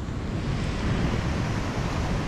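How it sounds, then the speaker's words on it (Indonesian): Big ocean waves crash and roar steadily against the shore at a shore-jigging fishing spot. The churning wash is loud and continuous, with wind buffeting the microphone and no voices. "ombak sih terlalu besar ini"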